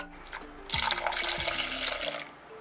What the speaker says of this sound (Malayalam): തിളപ്പിച്ചാറിയ പാല് കുറച്ച് കുറച്ചായിട്ട് ഇതിൽ ആഡ് ചെയ്യാം.